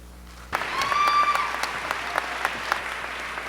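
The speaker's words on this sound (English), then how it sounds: "please stand up for a round of applause" Applause from a graduation ceremony audience at Baylor College of Medicine bursts in suddenly and holds as a steady, dense wash of clapping, with a few sharper individual claps and faint whistles standing out.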